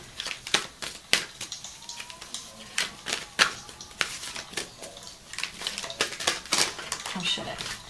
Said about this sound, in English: let's pull some cards from the fortune reading cards